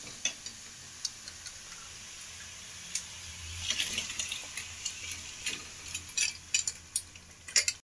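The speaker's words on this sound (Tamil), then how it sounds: "இப்போ வெந்த கொத்துக்கறி அதில் சேர்க்குறோம்." Cooked minced mutton added to masala and stirred in a pan, with soft frying sizzle and scattered light scraping and ticking of a utensil, fairly quiet and close.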